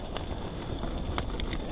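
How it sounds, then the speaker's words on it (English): Steady wind noise rushes across the microphone outdoors on a trail during a cargo e-bike ride, a broad continuous roar with a few brief gusty bumps. "It's windy."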